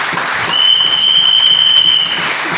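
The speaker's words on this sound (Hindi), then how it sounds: "तो एक वेस्टीज के लिए बहुत जोरदार ताली बजाइए" Steady applause from an audience, a continuous wash of clapping at even loudness with a thin electronic whine running through the middle.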